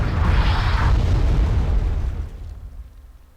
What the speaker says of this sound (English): Or see arty if it explodes.